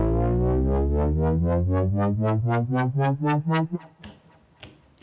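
An Elektron Digitone synthesizer tone pulses in rapid repeated notes while its pitch ramps steadily upward, then cuts off into brief noisy bursts at the end.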